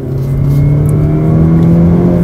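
A Mazda CX-30 with a Skyactiv-X petrol engine accelerates with a loud, steady droning hum whose pitch climbs gradually, with no talking over it.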